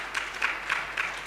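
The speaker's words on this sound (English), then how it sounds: "you guys are not doing her enough justice with your clapping" Audience at a venture capital association launch clapping, a steady, thin patter of applause with a few soft rhythmic peaks, moderately distant and modest in size.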